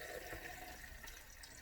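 Kombucha being poured through a funnel, a soft, continuous liquid trickle and gurgle heard close by, faint and with no talking.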